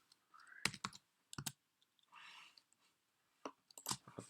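Computer keyboard keys clicking in short separate bursts as a folder name is typed, quiet and close, with pauses between the clusters of keystrokes.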